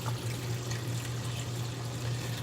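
Water runs steadily into a container for bagel preparation, a continuous close rushing pour with a constant low hum beneath it and no pauses.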